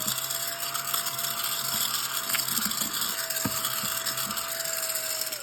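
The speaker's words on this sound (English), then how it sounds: "I have my vacuum cleaner." Household vacuum cleaner runs with a steady whine and hum close by, with small clicks and knocks of pickup scattered through, its tone dropping slightly at the end.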